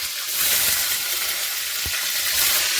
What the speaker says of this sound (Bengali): ফোড়ন দিয়ে একটু ভাজা হয়ে যাওয়ার পরেই টমেটোগুলো দিয়ে দেবো তেলে